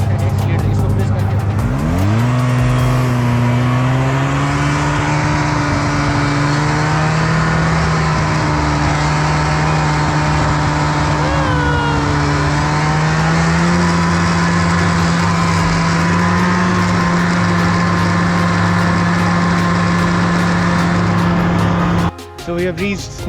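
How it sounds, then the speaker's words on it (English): A Polaris snowmobile climbing a snowy slope in Gulmarg, Kashmir, its engine droning loud and steady right at the listener, with pitch rising early and shifting through the ride, then cutting out near the end. "So we have reached the top using that snowmobile right there"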